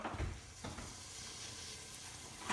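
Butter and olive oil sizzle and hiss steadily in a hot pan as the base for a garlic and chilli pasta. A brief stirring scrape comes near the start, then a soft, even frying sound carries on with no voices.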